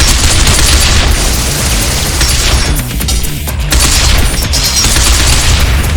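Grenade blast and sustained gunfire in the shooter video game Binary Domain, a loud dense wall of rapid shots and booms that barely lets up, with one brief dip in the middle.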